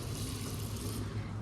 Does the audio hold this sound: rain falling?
no